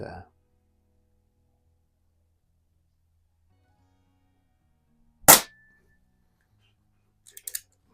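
An Air Venturi Comp 10 air pistol fires a wadcutter pellet, giving one sharp, close crack that decays quickly, followed by a few faint mechanical clicks.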